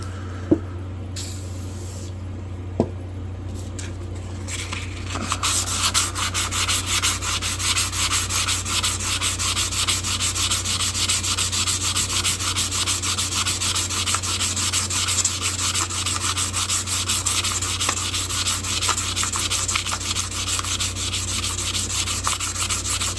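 Steady, continuous sandpaper rubbing as a vintage German-made knife is hand sanded at around 400 grit, starting after a few seconds of quieter handling with faint clicks and then holding an even scratchy hiss to the end.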